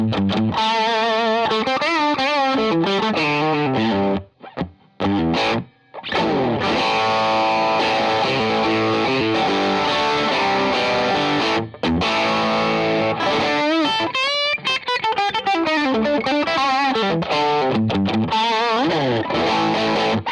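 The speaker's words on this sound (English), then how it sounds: "I'm using just an overdrive" Electric guitar through a Soul Food overdrive pedal plays crunchy, gritty chords and riffs continuously, with a couple of brief pauses early on.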